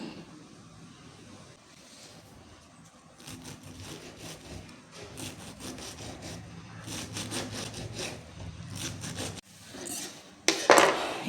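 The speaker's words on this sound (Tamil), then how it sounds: "இப்போ நம்ம இதை கட் பண்ணி எடுக்கலாம்" Fresh puliccha keerai, sorrel leaves, are cut with a knife in a run of rhythmic, rasping strokes, faint at first and then louder and denser, ending in a brief loud rustle, with no talking.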